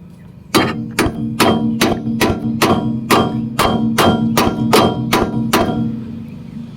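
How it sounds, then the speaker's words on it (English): Loud, close hammer blows ring on metal as a bolt extractor is pounded onto a Honda Civic rear shock bolt, about a dozen strikes in a steady, even rhythm. "Pound it on with a hammer."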